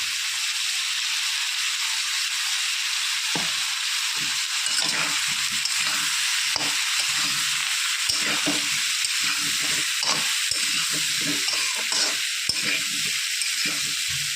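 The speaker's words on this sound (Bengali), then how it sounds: "এদিকে আলু ফুলকপিটা ভাজা ভাজা হয়ে যাবে, মশলাটা আমার কষানো হয়ে যাবে।" Potato and cauliflower fry in a pan with cumin, chilli and turmeric powders, giving a continuous close sizzle broken by repeated scraping stirs.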